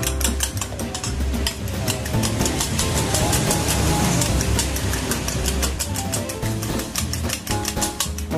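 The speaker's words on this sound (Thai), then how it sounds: "แล้วเราก็ตีไข่ครับผม" Eggs whisked in a large bowl for an omelette, a fast steady rattling beat of utensil on bowl, close and continuous throughout without any talk.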